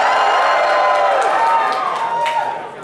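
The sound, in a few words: audience cheering for team Gambit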